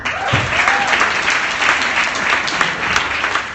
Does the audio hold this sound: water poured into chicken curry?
no